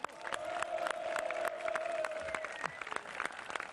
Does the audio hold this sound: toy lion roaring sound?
no